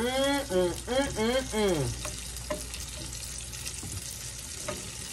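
Okra fries in hot bacon grease in a pan, a lively, close sizzle with scraping and stirring clatter that takes over after a short stretch of voice at the start.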